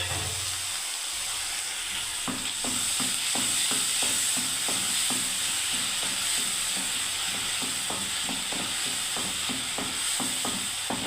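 Tomato paste stirred into a frying brinjal curry, with a steady loud sizzle and hiss under repeated rhythmic scraping strokes of a spoon against the pan.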